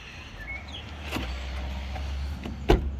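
Remote unlock and door opening on a used Smart car with 44,000 miles, heard as a steady low hum with soft mechanical clicks and a sharper latch clunk near the end.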